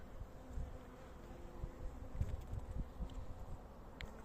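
A steady low hum of many honeybees swarms around an opened hive during a brood frame inspection, a continuous near drone with faint crackles and handling noises, no voices.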